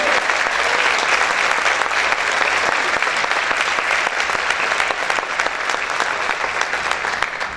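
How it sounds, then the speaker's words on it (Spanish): A church congregation claps together during a sermon: dense, steady applause holds at an even level throughout, with no voices rising above it. "Ese aplauso para el Señor Jesucristo."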